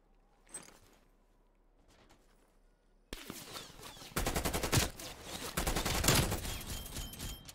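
Rapid automatic gunfire in a Call of Duty Cold War match, loud and continuous bursts after a quieter stretch with a few isolated shots early on.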